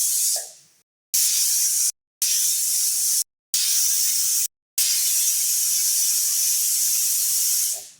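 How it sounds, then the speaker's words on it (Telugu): A pressure cooker on a stove releases steam in a loud, hard hiss, heard as several long blasts broken by sudden brief silences, then fading out at the end. "5 విజిల్స్ వచ్చినాయి కదండి"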